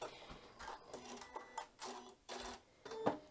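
A home sewing machine runs fast stitching through paper-pieced fabric, giving rapid rhythmic mechanical bursts with short pauses between runs, close and moderately quiet.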